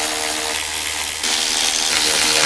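A power tool, likely a drill or impact driver, runs steadily close by, backing out the T30 bolts that hold the grab handle in a 2021-or-later Ford Bronco. The whine is continuous for a couple of seconds, with a brief shift in pitch partway through.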